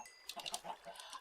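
Chickens on a farm in a video game cluck in a quick cluster of short, overlapping calls, close and fairly soft, with no talk.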